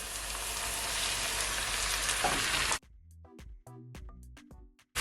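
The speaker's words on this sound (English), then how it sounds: "now I'm gonna add my minced meat" Minced beef for Jamaican patty-style taco filling hisses loudly in a hot pan, then drops to brief intermittent sizzles and spatula stirs after a sudden cut; no talking.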